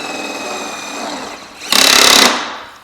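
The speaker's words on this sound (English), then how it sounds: "You grab your nut driver or your ratchet." A ratchet or nut driver runs nuts onto bolts while a spider rack is assembled, a brief loud burst of fast mechanical rattling standing out over low background noise.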